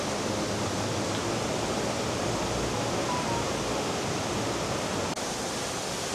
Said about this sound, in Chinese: 这下雨天哦，瀑布到处都是